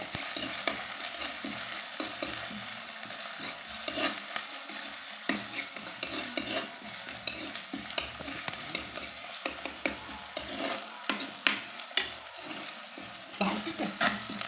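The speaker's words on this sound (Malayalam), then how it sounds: "നന്നായിട്ട് ഇങ്ങനെ വഴറ്റുക" Sardine curry base being stirred and sautéed in a pan, steady sizzling with continuous scraping and stirring strokes throughout, close and fairly loud, with no talking.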